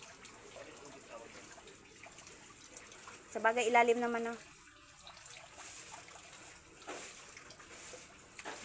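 Water runs quietly into a tilapia fish pond during harvest, a soft, continuous outdoor wash with a brief louder tone in the middle while a person talks over it.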